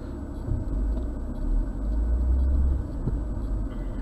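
A BMW car on a performance-driving school slalom course gives off a steady, loud low engine and road rumble that swells and eases slightly as it runs, with no talk.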